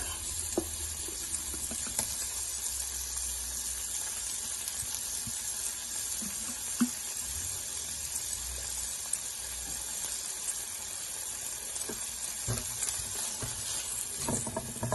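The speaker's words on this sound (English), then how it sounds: "Going to add minced garlic." Minced garlic sizzles in a pan while pepper steak is being cooked, making a faint, even hiss throughout with a few small scattered clicks and no talking.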